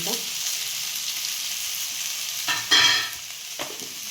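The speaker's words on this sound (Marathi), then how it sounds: "आता छान कांदा लालसर भाजून घ्यायचं." Chopped onions fry in hot oil for a dal kanda tempering, a continuous bright sizzle with a couple of louder stirring bursts late on, close and unaccompanied by speech.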